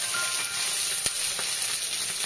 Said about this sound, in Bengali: হালকা করে একটু সটে করে নেব।